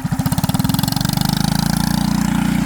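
Small engine on a trike built from pallets revving up, its pulsing putter speeding into a dense, loud buzz, close by with no talk.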